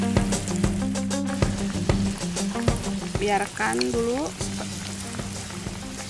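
Oil sizzles steadily as bakwan (Indonesian vegetable fritter) batter fries in a pan, with brief scraping and stirring clatter and a short spoken phrase in Indonesian over the hiss.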